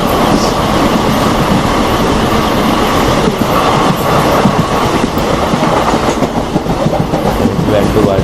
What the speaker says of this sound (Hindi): मुझे ये आवाज़ बहुत अच्छी लगती है ट्रेनों की ट्रैक चेंज करने की।